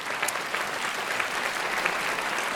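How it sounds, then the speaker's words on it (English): Audience at a multiple sclerosis medical conference breaks into steady applause, a dense wash of many hands clapping at moderate level with no talking over it. "we should give them all a round of applause for everything that they did"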